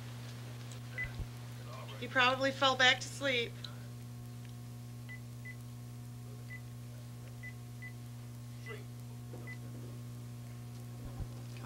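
Touch-tone telephone dialing: a quick, close burst of several keypad tones, followed by a quiet line with faint repeated beeps while someone talks.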